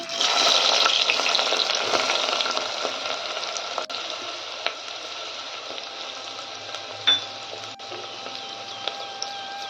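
Chopped onion hitting hot oil in a pan, a strong hissing sizzle at first that settles into steady frying with a few small clicks and pops, close and continuous, no talking.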